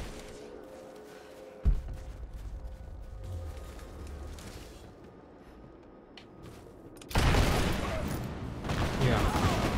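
Rapid gunfire from Rise of the Tomb Raider erupts loudly in a sustained, dense burst after a stretch of quieter game ambience and an earlier single sharp thud.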